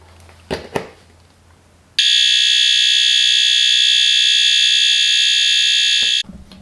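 A fire alarm device set to coded pattern at low volume emits a steady, piercing high-pitched tone lasting about four seconds, preceded by faint handling clicks and ending abruptly.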